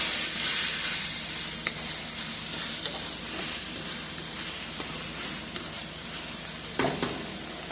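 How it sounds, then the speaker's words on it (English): Diced tomatoes tipped into a hot pan for baked spaghetti sauce, setting off a steady, loud hissing sizzle with occasional stirring scrapes, close up and without talking. "So I went ahead and put my diced tomatoes"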